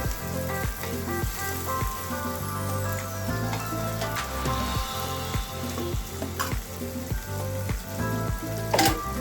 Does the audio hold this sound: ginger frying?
yes